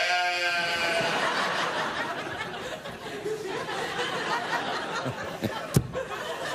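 A sheep bleating sound effect opens with a wavering, nasal bleat, then trails into a noisy wash of studio audience laughter and chatter, with a sharp clap-like hit near the end.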